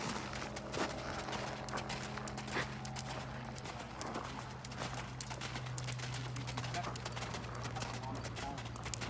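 A horse's hooves beat in a steady cantering rhythm on an arena surface, a soft continuous drumming under a riding instructor's voice.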